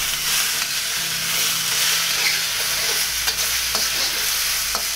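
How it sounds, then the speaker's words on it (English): Fried rice sizzles loudly in a hot pan as sauce is stirred through it: a steady, close frying hiss with scraping stir strokes throughout and no talking. "And now we throw in the sauce. Hurry and give that a mix."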